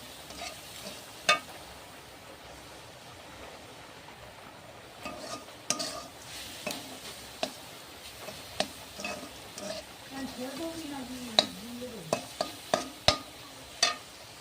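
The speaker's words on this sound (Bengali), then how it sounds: "এবার চিনি দিয়ে ভালো করে নেড়ে চেড়ে পুরটা রেডি করে নেব" Sugar is stirred into a coconut filling in a pan on low flame, with a series of quiet scraping knocks of a spoon against the pan over a soft, low sizzle, the taps growing more frequent toward the end.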